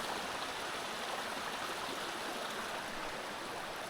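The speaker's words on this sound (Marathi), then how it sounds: "हे बघा हे पाणी इथून अडवून भरलं जात ना" Water flowing steadily through an old built channel where a forest stream in Konkan is dammed, a continuous close rushing babble with no pauses and no voices.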